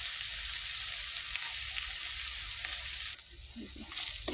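Onion, ginger and garlic paste sautéing with salt in a pan with whole garam masala and cumin, giving a steady close sizzle and fry hiss throughout, with a few scraping stir sounds near the end.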